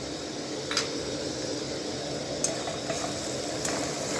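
Prawns coated in turmeric and chilli powder sautéing in a pan for chingri posto, a steady soft sizzle running throughout with a few faint clinks of stirring.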